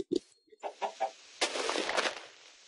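Short clucking bursts from a Minecraft chicken, a few separate calls followed by a busier stretch of game noise, moderately loud and close.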